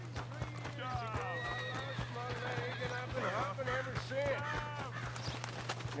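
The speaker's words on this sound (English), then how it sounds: "The horse is actually far away." Hooves clopping in Red Dead Redemption 2, with a horse neighing and whinnying repeatedly over the hoofbeats and a steady low hum, at moderate distance.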